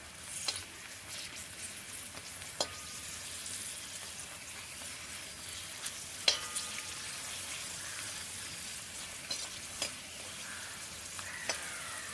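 Cashews and raisins frying in ghee in a pan give a continuous soft sizzle at moderate volume, with scattered clicks and pops from stirring over the hiss.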